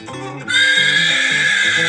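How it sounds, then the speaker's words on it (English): A horse whinnies loudly and close, a long high neigh following brief lower sounds at the start. "What is that noise? It's a horse."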